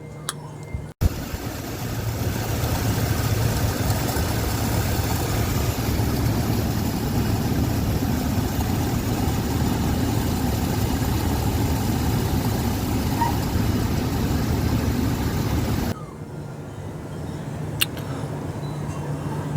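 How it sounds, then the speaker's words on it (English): An engine idles steadily at close range with a faint repetitive ticking over the hum; the sound drops abruptly near the end. "you hear that weird tick, tick, tick, tick, tick, tick, tick sound"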